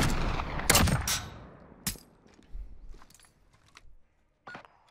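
Desert Eagle pistol shots in a 1v1 video game match: a few sharp, loud cracks in the first two seconds, followed by fainter clicks and scattered game sounds.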